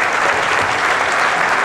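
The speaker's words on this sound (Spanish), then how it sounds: "Quiero, por favor, que le brindemos un fuerte aplauso a Gloria" Audience applause at a regional innovation strategy event in O'Higgins, a steady, dense wash of clapping with no talk over it.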